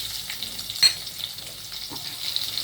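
Onion and mustard seeds fry in hot oil for stuffed brinjal ennegayi. A continuous, close hiss of frying runs throughout, with a brief utensil clack near the start.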